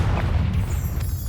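The Confringo explosive spell cast in the video game Hogwarts Legacy gives a loud, sustained booming blast with heavy low rumble, continuous through the short moment with no speech.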